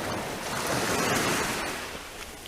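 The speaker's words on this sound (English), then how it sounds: "this beautiful sea coming in here, and you can enjoy these waves for a couple of seconds" Sea waves wash in on the shore at Smitons Bay, a continuous rushing surf with wind noise, moderately close and steady with no voices.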